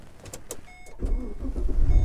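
A Chevrolet Caprice PPV police car engine starts and settles into a steady low rumble after a few clicks and faint mechanical ticks, fairly close and continuous.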